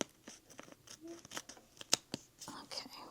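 Scissors snip small paper deco pieces for a reading journal, producing a quiet string of short crisp cuts and rustles close up, with faint soft voice sounds in between.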